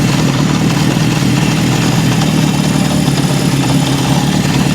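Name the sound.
1972 Honda CB750 Four engine idling with cam chain noise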